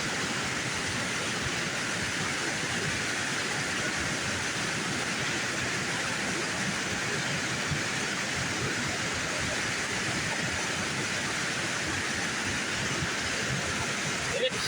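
A river at flood stage rushes steadily toward a waterfall, a dense, constant roar with no break, loud and close.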